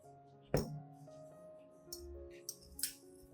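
A single sharp clink of glass rings out near the start, followed by a few softer taps and light knocks in an otherwise quiet room.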